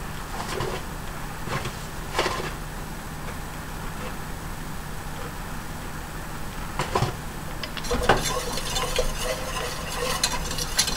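Dough being mixed in a bowl, with intermittent scraping and stirring strokes over a low background hum, getting busier near the end.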